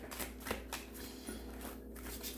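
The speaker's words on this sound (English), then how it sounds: "I'll give this a couple more shuffles," Tarot cards being shuffled by hand make a quick, dry riffling patter of repeated papery flicks and taps, close and fairly quiet, with no voices.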